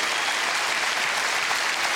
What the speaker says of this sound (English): I can't thank Cherie with a round of applause, but you can